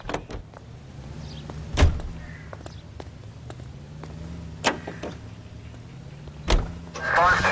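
A car in the 1940s Los Angeles crime game L.A. Noire: a steady low engine hum runs throughout, broken by a few sharp door-like thumps, with voices talking at times.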